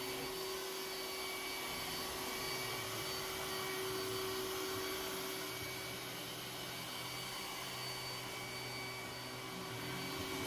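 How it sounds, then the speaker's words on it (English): A Roomba robot vacuum working over a small bathroom rug, its constant whirring motor and airflow droning steadily and close throughout, with no voices. "The Roomba makes it on top of this rug once it hits it at a different angle."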